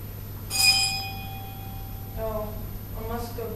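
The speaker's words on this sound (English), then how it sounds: "Here's the bell." A bell rings once with a bright, sustained metallic tone during an eighth-grade school drama performance, standing alone before voices of young actors speak lines on stage.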